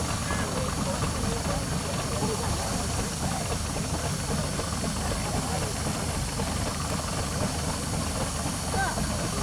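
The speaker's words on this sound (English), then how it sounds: "this engine would be quite capable of winching 30 or 40 tons" A full-size steam traction engine, nearly 130 years old, hisses loudly and continuously while winching in a country show arena, with a low mechanical rumble under a constant broadband steam roar.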